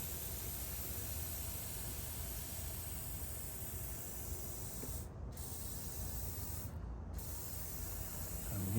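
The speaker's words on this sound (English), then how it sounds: "I'm giving this thing a little coat of WD-40" WD-40 lubricant sprayed onto the moving parts of a worn snow plow scraper, a steady close hiss running nearly nine seconds with two short breaks.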